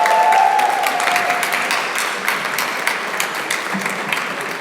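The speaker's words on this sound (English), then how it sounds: "just give yourselves a big round of applause" An audience at a hackathon's final demos claps in a burst of loud, dense applause that gradually tapers off over a few seconds.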